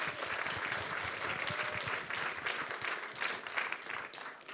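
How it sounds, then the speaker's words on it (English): An audience applauds guests at a film festival interview event, a dense, steady wash of clapping from a sizeable crowd filling the room without pause. "let's give them another round of applause"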